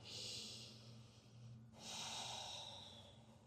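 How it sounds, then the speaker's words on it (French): A long deep breath taken in downward dog during a yoga flow: a close, airy inhale and a longer exhale, split by a brief pause, over a faint low hum. "On va prendre une longue respiration ici avant de continuer."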